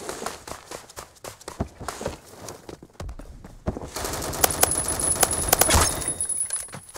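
SCAR-H rifle fire in the Roblox game Phantom Forces: rapid bursts of sharp shots and footsteps, then a louder, denser stretch of fire with metallic clinks, close and without talking.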